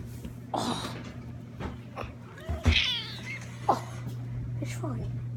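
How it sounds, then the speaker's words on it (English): A cat meows several times in short, separate calls, close to the microphone, over a steady low indoor hum, with a person's voice briefly audible between the calls. "There you are, kitty."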